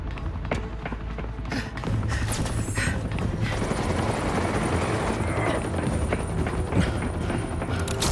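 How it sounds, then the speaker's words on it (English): A news helicopter in a Batman video game thrums loudly and steadily with a heavy rotor chop, joined by sharp clanks and mechanical noises early on. "Don't you get on that news helicopter right now."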